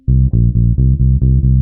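A bass guitar plays a short riff of several sustained, distorted low notes, each attack clearly separated, loud and alone.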